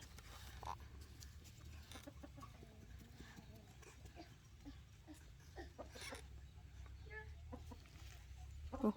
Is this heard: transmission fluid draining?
no